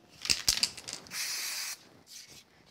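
A few sharp shaking or tapping sounds, then a steady hiss of aerosol spray glue for about a second, followed by two shorter, softer bursts, while mounting a craft lattice panel.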